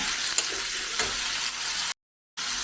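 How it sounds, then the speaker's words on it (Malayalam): Close, steady sizzle of sliced onions frying in oil with a few soft pops, cut off by a brief moment of silence before the hiss resumes. "നമുക്ക് സവാള എല്ലാം അങ്ങനെ ഒന്ന് വറുത്തെടുക്കാം"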